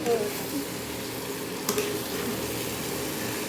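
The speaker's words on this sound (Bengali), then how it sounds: "এবার এটাকে একটু ভালো করে নেড়ে চেড়ে নিতে হবে।" Jackfruit (echor) and potato curry being stirred in a pan, a steady scraping and bubbling hiss with a brief sharper clink partway through and faint voices in the background.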